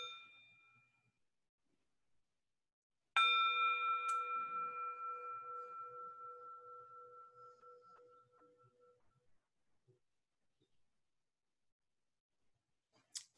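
A single clear bell struck to open a group session, ringing out and decaying slowly over several seconds in a quiet room, with a faint tap near the end.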